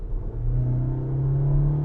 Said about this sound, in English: So I'm gonna put my foot down now.